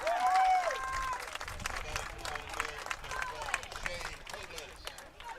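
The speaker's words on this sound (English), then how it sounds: "you can hear through our headsets, we got a big cheering crowd for Hudson Barkman right around us" Big crowd cheering and applauding around the broadcast booth at a high school regional championship baseball game, a steady roar of claps and shouts with a whistle at the start, lasting throughout.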